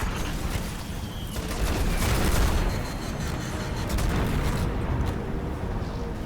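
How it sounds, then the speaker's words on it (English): A dense, continuous barrage of booming blasts and rapid crackling gunfire from the video game Destiny: Rise of Iron, loud and chaotic throughout, like a battle raging nearby. "That's a lot of explosions."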